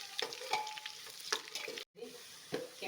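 Finely chopped medium-size onions frying and being stirred in oil for chicken biryani, a steady soft sizzle broken by a few sharp scraping stirs and one brief dropout near the end.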